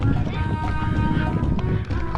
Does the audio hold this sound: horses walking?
yes